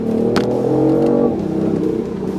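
A BMW i8's 231-horsepower 1.5-litre engine revs up with a throaty growl, close by, then settles back to a lower rumble.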